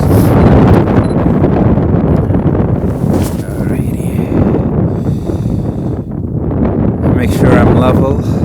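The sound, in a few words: strong wind on a freezing mountain at sunset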